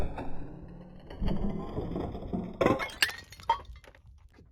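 An AR-15 in 5.56 with a 16-inch barrel is fired into porcelain lids, giving a muffled crack followed by sharp breaking and clinking of shattering porcelain, then a few scattered tinkling impacts as pieces settle.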